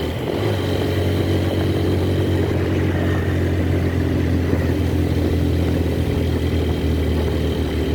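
A motorcycle engine labours up the hilly Alikadam–Thanchi road, a loud, steady low drone with a constant hum and no clear revving, close and running throughout without speech.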